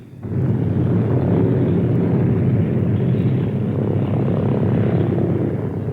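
Propeller engines of a Boeing B-17 bomber drone loud and steady after a quick swell at the start, a dense low roar holding throughout with no voices.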